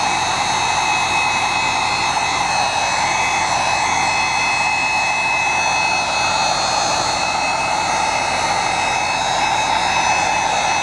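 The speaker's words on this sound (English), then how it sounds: "Heat gun, we got I think at Lowe's" A heat gun blowing hot air to dry paint on an egg topiary, a loud, constant close roar that holds steady throughout without any talk.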